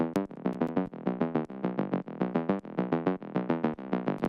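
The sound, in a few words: Omnisphere bass patch playing bass plucks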